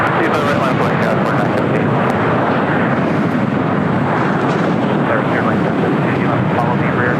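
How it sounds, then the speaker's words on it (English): A Southwest Airlines Boeing 737 MAX 8 arrives on the south side at LAX, giving a loud, continuous broadband jet roar close by while a voice talks over it. "Next arrival here on the south side is Southwest Airlines Flight 1862, coming in from Baltimore, Maryland at 737 MAX 8"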